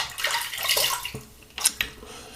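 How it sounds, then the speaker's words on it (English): Water splashing as a face is rinsed after shaving, close and soft, in a few uneven bursts with brief drips between them. "All right, let's rinse."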